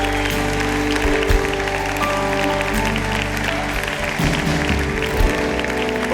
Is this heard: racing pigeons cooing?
no